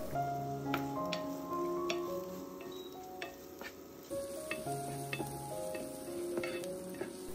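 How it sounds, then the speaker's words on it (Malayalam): Sliced onion with salt sautéing in coconut oil in a pan, a steady close sizzle with scattered stirring scrapes and taps and no voices. "ഇതിലേക്ക് ഒരു വലിയ സവാള അരിഞ്ഞതും ആവശ്യമുള്ള ഉപ്പും കൂടി ചേർത്തിട്ട് നമുക്ക് ലൈറ്റ് ഗോൾഡൻ ഷെയ്ഡ് ആവുന്ന വരെ ഒന്ന്"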